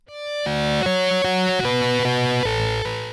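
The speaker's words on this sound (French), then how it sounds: "C'est une combinaison pédale plus amp plus cabinet qui sont des effets classiques de guitare qui existent en hardware et au milieu, il y a un écho pour l'espace" An electric guitar runs through a Scream preset distortion pedal, amp and cabinet simulation with echo, playing a sequence of sustained, heavily distorted chords that shift every half second or so, loud and alone with no talk.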